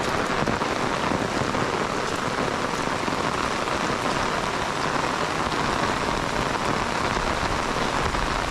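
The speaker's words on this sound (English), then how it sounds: "It's been raining just like this for, well, since this morning." Steady heavy rain pours down on a muddy homestead with a filling pond, a dense, continuous hiss close by and alone, with no breaks or voices.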